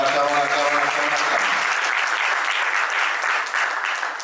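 Applause from guests at a civil wedding ceremony, a dense, steady clatter of clapping that rises quickly after a short bit of speech at the start and carries on loud for several seconds.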